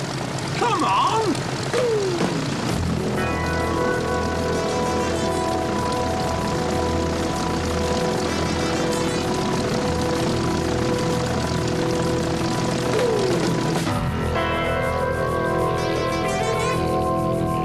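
A propeller aircraft engine roars steadily and loudly at takeoff, droning throughout with shifting pitch while voices call out over the din.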